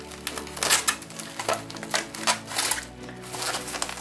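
Packing tape pulled off the roll and pressed onto Lego set wrapping, a run of crackly rips and sticky taps in uneven bursts, close and fairly quiet.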